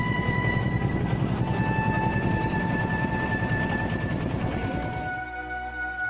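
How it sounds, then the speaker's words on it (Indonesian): A modified motorized rail lorry runs along old colonial-era Dutch tracks to Lebong Tandai village, a loud continuous engine drone with rumbling wheels that eases slightly near the end. "Satu-satunya akses ke Desa Lebong Tandai adalah jalur transportasi kereta lori"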